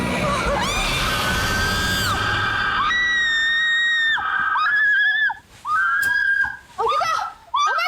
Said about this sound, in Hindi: क्यों चिल्लाई तुम?